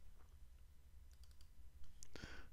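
A few soft, quiet mouse clicks while Sharpen is selected in Adobe After Effects, with a sharper double click near the end over low room hum.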